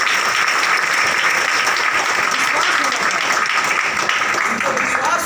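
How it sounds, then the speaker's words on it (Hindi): Audience applause at a speech, a dense, steady roar of clapping from a crowd that holds evenly for several seconds, loud and close, with a voice faintly audible beneath it. "ताली बजा लीजिए।"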